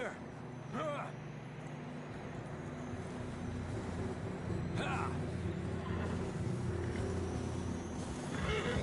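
Horses gallop and neigh in the Red Dead video game, with a steady rush of hooves and movement under the game's loud, continuous background, and several short whinnies rising at intervals.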